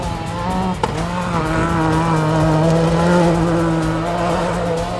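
A Ford Escort Cosworth WRC rally car roars hard off the start line at Black Bess, St. Peter, Barbados. Its loud, close engine holds a strong, steady drone with a brief sharp jolt early on.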